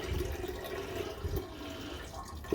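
Gold refining solution pours slowly from a flask as a gentle, steady trickle of liquid, heard close and quiet, with no talk.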